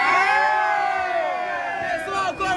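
A crowd of spectators at a pirate show in Beto Carrero World lets out a loud, sustained group battle cry, many voices shouting together close by, easing slightly before a brief dip near the end.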